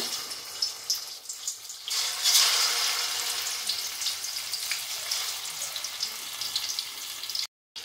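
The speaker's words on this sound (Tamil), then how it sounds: "இப்போ எண்ணெய் நல்லா சூடுனோடனே இதை பொரிச்சு எடுத்துக்கோங்க." Fish fries in hot oil in a kadai, giving a continuous crackling sizzle with sharper spits and pops, moderately loud and close, cutting out briefly just before the end.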